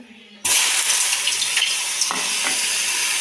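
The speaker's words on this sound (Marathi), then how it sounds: "कारली मी परतून घेते" Bitter gourd hits hot oil in a kadai with a sudden loud sizzle that settles into a steady, close frying hiss, with a few stirring scrapes through it.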